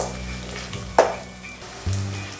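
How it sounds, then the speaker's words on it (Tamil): Seedless dried red chilies and onions sautéing in oil for a chicken chinthamani dish, a close steady sizzle with a sharp utensil clatter and a low hum from the stove, no voices. "இப்போ இதை சேர்த்து நல்லா வதக்கிக்கலாம்"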